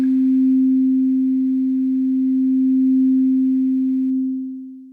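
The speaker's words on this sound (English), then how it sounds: "It pans the sound from left to right automatically" A steady AudioKit Digital D1 synthesizer tone with auto-pan panning left to right holds one pitch for about four seconds, then fades, with faint upper harmonics; no voices.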